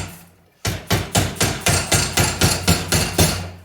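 A hammer tapping the bent metal of a brake cooling duct to sharpen its angle: about a dozen crisp, evenly spaced metallic taps, close and loud, after a short quiet start, with no speech.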